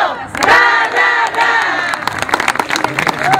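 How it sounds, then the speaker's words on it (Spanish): Crowd at a medical outreach event cheering and shouting loudly for a doctor, a dense, sustained roar of voices with scattered sharp bursts throughout. "Un aplauso para el doctor Mauricio, por favor."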